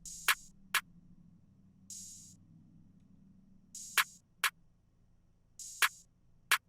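Programmed hip-hop beat in which an open hi-hat and a snare drum play together, with crisp snare hits and hissy open-hat splashes repeating in a sparse, quiet pattern over a soft low bed.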